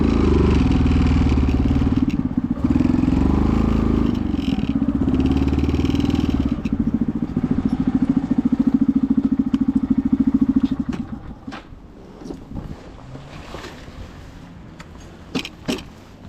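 A Honda Grom motorcycle idles with a steady low engine rumble for about ten seconds, then cuts off, leaving scattered clunks and scrapes as it is parked.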